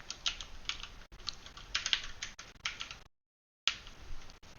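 Typing on a computer keyboard to enter a function into the Desmos graphing calculator: rapid, close clicky keystrokes in bursts, with a short silent pause partway before more key taps.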